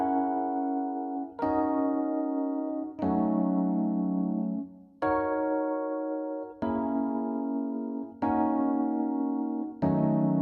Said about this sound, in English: I took the chords that I played on an electric piano first.